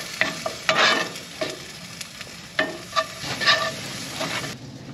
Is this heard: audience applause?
no